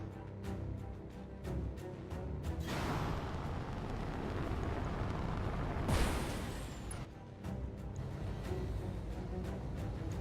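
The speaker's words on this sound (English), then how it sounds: "So, Decker, please move up and start shooting at the enemy" Mechs open fire on an enemy in the video game Battletech, producing a rumbling barrage of booms and bursts that swells into a roaring blast near the middle and then settles back into scattered impacts.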